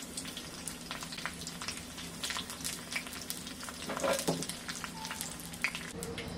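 Curry leaves and chillies fry in hot oil for a tempering, giving a soft, continuous sizzle with scattered small crackles and pops, fairly quiet and close, with no voices.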